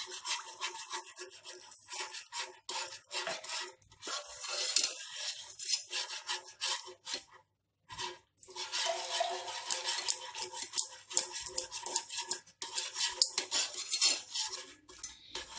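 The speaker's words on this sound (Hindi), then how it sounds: "हम इसे चलाते हुए अच्छे से मिक्स कर रहे हैं" White sauce of flour and milk is stirred hard in a pan for pasta, a close, continuous metallic scraping and clinking that pulses with each stroke and stops briefly midway before resuming.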